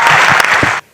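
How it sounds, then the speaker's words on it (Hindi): Loud, dense audience applause at a Hindi poetry recital, a steady roar of many hands clapping that stops abruptly near the end. "मुझे बैठ के पढ़ने के लिए एक ताली बजा दीजिए एक बार"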